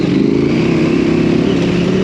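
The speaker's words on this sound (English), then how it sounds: "I'm gonna chase the mighty Africa Twin on the KTM 790." A Honda Africa Twin and a KTM 790 adventure motorcycle ride a dirt trail, their engines droning loud and steady close by with a throbbing, rumbling note and no pause.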